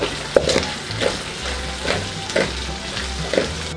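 Onion and garlic sautéing in a pan for a skillet pizza sauce, a constant close sizzle punctuated by about seven rhythmic scraping stirs, with no speech.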